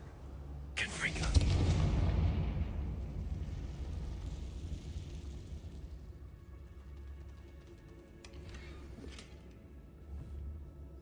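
A Confringo fire spell explodes in the video game Hogwarts Legacy: one sudden blast early on, then a rumbling roar that fades over several seconds, followed by a few faint later noises.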